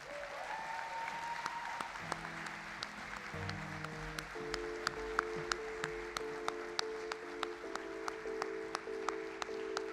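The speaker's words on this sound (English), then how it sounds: "let's give a big round of applause for the 2022 Courage Award recipient, Caitlin Fairhurst" Sustained audience applause fills a high school sports awards ceremony as the 2022 Courage Award recipient is honored, a dense steady clapping over ten seconds with background music tones underneath.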